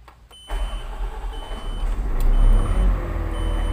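A vehicle engine cranks and catches about half a second in, then idles and revs with a loud, steady rumble that swells slightly and holds to the end, with no talk over it.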